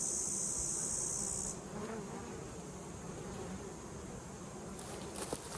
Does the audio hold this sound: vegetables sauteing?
no